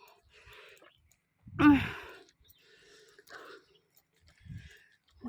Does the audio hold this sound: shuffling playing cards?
no